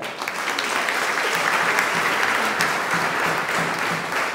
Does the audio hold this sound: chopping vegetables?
no